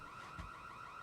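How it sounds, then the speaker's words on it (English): A fire alarm set off by burnt steak, a faint, steady high-pitched electronic tone holding continuously with a soft thump partway through. "Suddenly, the fire alarm blares."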